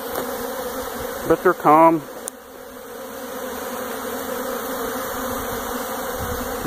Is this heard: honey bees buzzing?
yes